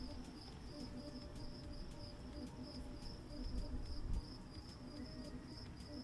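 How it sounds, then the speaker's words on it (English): Loud, aggressive cricket ambience in a video game, a dense steady chirring drone with repeated high pulses running throughout, with no talk over it. "It is such an aggressive cricket noise."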